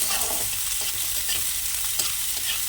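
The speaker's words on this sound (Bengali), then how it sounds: "পেঁয়াজ কুচোনোটা একটু পেঁয়াজটা ভালো করে ভেজে নিই" Chopped onion and green chilli fry with liver in a pan, giving a dense, continuous sizzle close by with scraping stirring strokes throughout.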